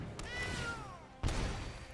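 A single drawn-out cat meow sound effect from the video game Magic Arena, moderately close and clear, followed by a short thump.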